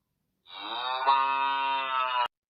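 A single cow gives one long, clear moo lasting nearly two seconds, close and isolated against silence.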